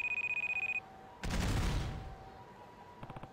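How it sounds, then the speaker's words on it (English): A short ringing alarm tone is cut off by a sudden loud explosion in a video game, whose blast rumbles and fades over about a second before faint rapid clattering follows. "That was an explosion."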